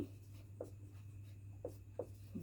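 Pen or pencil writing an answer by hand on paper, a few short scratchy strokes at close range over a steady low hum.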